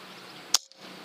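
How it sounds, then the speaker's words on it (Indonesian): A single sharp crack from a Black Monel-5000 air rifle, the third shot in an accuracy test, short and fairly close, followed by a brief near-silence before quiet room tone returns. "Oke, tembakan yang ketiga."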